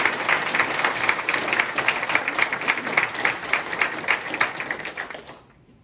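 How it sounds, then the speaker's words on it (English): An audience applauds a retired judge at a circuit court judge's investiture ceremony, dense clapping that holds steady and then fades out at the very end. "Let's have a round of applause for retired Judge Vierke."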